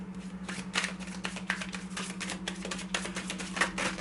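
Crisp, rapid riffling and flicking of playing cards in a continuous shuffle, close by, over a steady low hum.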